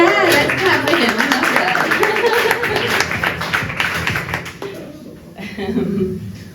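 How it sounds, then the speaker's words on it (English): An audience at a poetry slam in Barcelona claps in a brisk burst, a bright patter of hands mixed with some chuckles and voices, thinning out toward the end. "let's clap for him"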